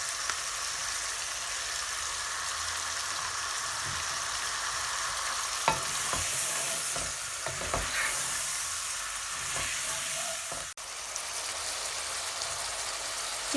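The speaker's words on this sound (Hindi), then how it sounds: "चिकन हमारा और मसाले जो हैं वो भुन गए हैं" Chicken and spices fry with yogurt in a pan, giving a steady loud hiss like rain with occasional spatula scrapes and taps, close up and without talk.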